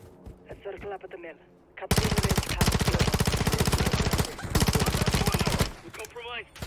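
Sustained automatic gunfire in the Call of Duty Modern Warfare III campaign: a loud, rapid, rhythmic burst lasting several seconds that stops abruptly, with faint background game sounds before and after.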